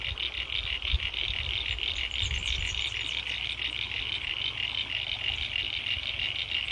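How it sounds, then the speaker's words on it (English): Frogs croak in chorus by the water, a dense, steady, pulsing trill at moderate distance that runs throughout, with faint low rumble beneath and no talk. "You can hear the frogs in the background."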